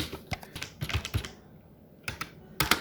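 Someone types ReactJS code on a computer keyboard, producing sharp individual key clicks in short irregular clusters with a brief pause midway, close and fairly quiet with no voices.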